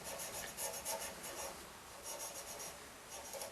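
Abrasive paper rubbing against a pen blank spinning on a lathe, a continuous dry hissing rasp with slight pulsing swells, steady and close, no voices.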